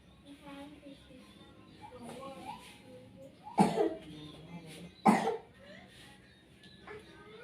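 A child with a cold coughs twice in loud, harsh bursts during a massage, close up, amid soft voices, whimpering and a little talk.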